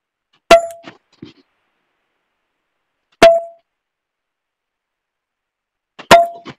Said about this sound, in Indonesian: Hari ini pecah batu lagi